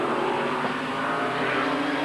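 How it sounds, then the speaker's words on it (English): IMSA race cars roar down the front straight at Watkins Glen in a 1990 event, a steady, distant-sounding engine drone that holds without a break. "There's the lead cars going down the front straight."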